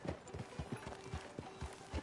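Horse hooves clip-clop in Red Dead Redemption 2 as the mount walks into town near a sheriff's office, a steady, even rhythm of soft thuds that stays fairly quiet, with a faint whinny.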